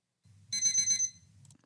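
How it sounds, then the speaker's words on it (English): A rapid electronic alarm beeps in a quick pulsing burst over a low hum, then stops abruptly. "urgent alarm beeping"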